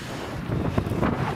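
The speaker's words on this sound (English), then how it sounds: "Sorry about the wind." Loud wind buffeting a microphone, a rough low rumble that swells and gusts throughout with no voices.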